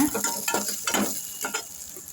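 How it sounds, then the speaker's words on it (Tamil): Curry leaves sizzle in hot oil while being stirred, a steady crackling hiss with rhythmic scraping strokes of a spoon. "கருவேப்பிலை போட்டு நல்லா வதக்கி விட்டுக்கோங்க."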